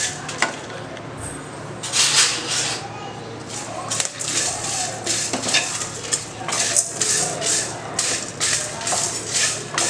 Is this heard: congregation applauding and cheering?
no